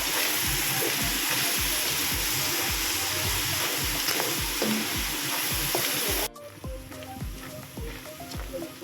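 Ingredients sauté in a hot pan with cracked pepper and soy sauce, a loud steady sizzle with rhythmic stirring scrapes throughout, the frying dropping somewhat quieter near the end.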